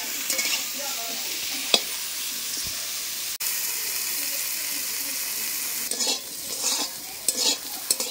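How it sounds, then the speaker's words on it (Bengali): Bitter gourd pieces fry in hot oil with a continuous close sizzle while they are stirred, sharp scrapes and clacks of the spatula breaking through now and then. "দেখুন বন্ধুরা করলাগুলো কিন্তু আমি ভালো করে ভেজে নিয়েছি।"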